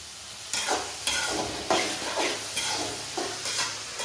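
Tomatoes are stirred and fried in a pan, sizzling steadily while a spoon scrapes through them in about six regular strokes, close and clear with no talking.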